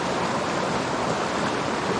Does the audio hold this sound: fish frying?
no